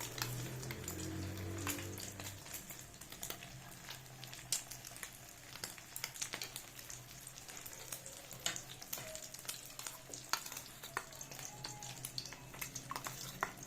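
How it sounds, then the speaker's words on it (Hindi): Egg-coated jugari kebabs fry in hot oil with a steady sizzle and scattered sharp crackling pops throughout. The sound stays close and moderately loud, with no speech. "इसी तरीके से हम सारे कबाब तल लेते।"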